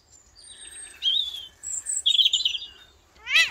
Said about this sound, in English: That's the robin singing.